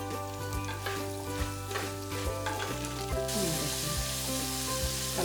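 Chopped onion goes into a hot pan and fries for a mudhi mansa dish, giving a steady, close sizzle with a few stirring scrapes over about five seconds and no talking.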